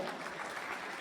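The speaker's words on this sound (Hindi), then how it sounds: "उन सब लोगों के लिए एक बार जोरदार तालियां" Audience applause at a company anniversary event in a hall, a dense, steady burst of clapping from many hands, brief and fairly loud, with no speech over it.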